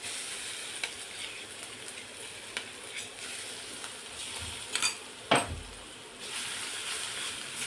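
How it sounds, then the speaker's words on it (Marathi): Ground raw mango mixture hits a hot pan and sizzles, a steady frying hiss broken by a couple of sharp louder bursts of sizzle and stirring clatter near the end, with no talk over it. "आता हे मिश्रण टाकायचं आहे, जे आपण कैरीचं वाटून घेतलेलं आहे ते टाकायचं यामध्ये"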